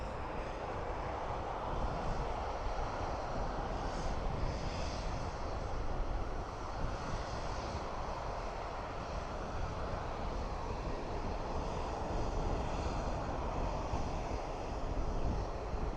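ATR turboprop aircraft at Dublin Airport, a steady broadband engine roar with a low rumble, heard at a distance and holding even for the whole stretch, no talking.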